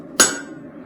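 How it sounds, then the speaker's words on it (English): A single loud, close hammer blow on hot steel while forging a Swedish-style cross peen hammer head, a sharp metallic strike followed by a short ringing decay. "Hammer it all the way through until you see a shadow, and then start coming down the other side."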